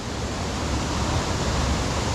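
Harmby waterfall rushing in a steady, dense broadband roar, close and constant throughout with no gaps, no voices heard over the churning water.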